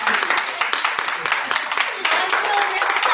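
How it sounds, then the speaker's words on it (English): Audience applause for Greenbrier Elementary School: a crowd clapping steadily and fairly close, with voices talking and cheering over it throughout. "Please clap it up for the Greenbrier Elementary School."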